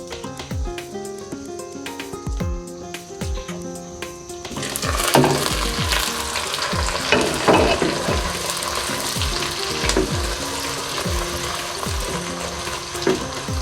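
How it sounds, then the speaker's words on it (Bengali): Spice paste for mutton rezala frying in a pan, a steady close sizzle with repeated stirring scrapes, growing denser and louder after the first few seconds, with no talking. "পেস্টটা প্রায় ভাজা হয়ে আসছে।"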